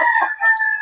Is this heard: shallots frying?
no